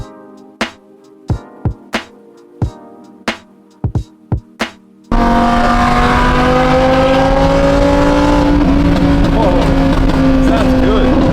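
A wrapped Lamborghini engine: about ten sharp, separate throttle blips, then a sustained loud roar rising in pitch as the car pulls away, with voices faint beneath it.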